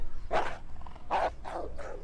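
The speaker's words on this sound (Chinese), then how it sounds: "救护车里一只真狗是拼命地汪汪叫啊" A dog barks inside an ambulance in an audiobook sound effect: four sharp, close barks in quick succession over a faint background hum.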